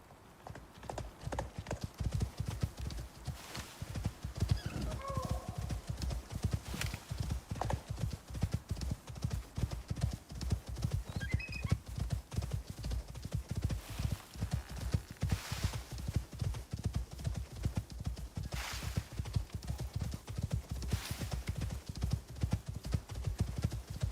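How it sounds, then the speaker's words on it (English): Steady clip-clop of horse hooves in the open-world survival game Icarus, a quick even rhythm running throughout, with brief neighs and whinnies near the start and middle, fairly quiet and with no talking over it. "Come here, horse."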